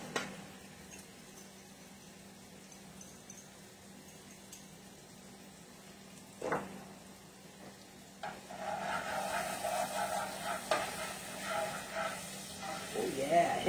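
Garlic dropped into a pan with cooking onion, a soft sizzle that swells into louder, crackling frying after a few clinks, with a person speaking quietly over it.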